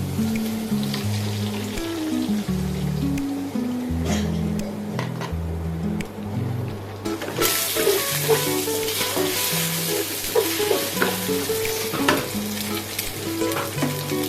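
Garlic and anchovies stir-fried in a pan for bihun with manicai, a steady close sizzle with scraping stirs and clinks throughout, no talking.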